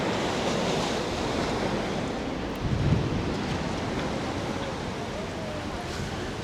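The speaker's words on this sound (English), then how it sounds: "I don't know if you can hear them waves crashing in" Sea waves rolling and crashing onto a beach in Gran Tarajal, Fuerteventura, a continuous loud wash of surf with wind rumble, one surge swelling briefly midway.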